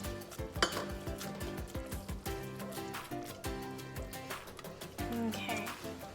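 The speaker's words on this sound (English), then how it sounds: "now I'm going to stir in the salt" Salt being stirred into hot caramel in a pan, heard as repeated clinks and scrapes of a utensil against the metal, close up, with a voice speaking faintly underneath.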